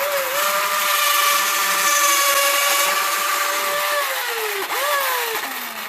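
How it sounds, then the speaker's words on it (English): An old cordless drill bores a hole in wood with a loud, steady motor whine, then bogs down and dips in pitch near the end as the bit works through the wood. "Let's drill a hole here."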